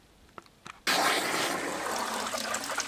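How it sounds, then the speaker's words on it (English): Water rushing out of a homemade backyard aquaponic system built for under $100, starting abruptly after a few small knocks and then pouring as a loud, steady gushing hiss that carries on to the end. "water is slowly starting to drain out"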